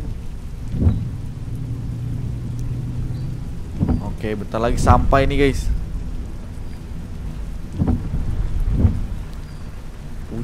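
Rain and thunder in Euro Truck Simulator 2 during a bus drive up a mountain road, with steady rain hiss and a few low rumbles throughout, while someone talks over it.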